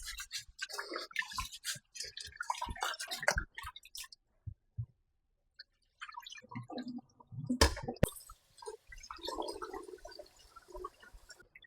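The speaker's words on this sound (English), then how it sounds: "Now you want to wash the rice until the water come clear." Rice being washed in water for Jamaican turmeric vegetable rice: irregular close splashes, swishing and drips, clustered at the start, then quiet gaps, followed by a louder pour and softer sloshing.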